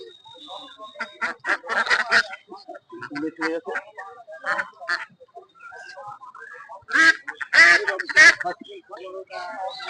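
Native ducks and chickens at a poultry market quack and honk in loud bursts near the microphone, with people talking and bargaining among the birds.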